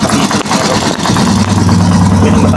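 Rusi Chariot 175 motorcycle engine runs steadily at close range, a loud continuous mechanical drone with a low hum that stays even throughout.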